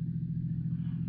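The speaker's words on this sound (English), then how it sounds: "Car runs nicely, doesn't it?" A car engine running smoothly at a steady low idle-like rumble, close and continuous with no variation, heard inside a 1970s radio drama.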